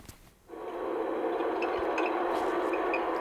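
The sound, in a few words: single-tone squeal noise in NVH recording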